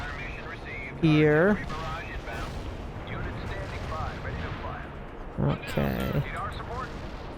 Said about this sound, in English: Let's drop more artillery